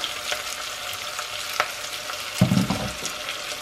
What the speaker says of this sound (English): I'm going to pour the first lot in this to get all my powdered seasonings off and into the pot.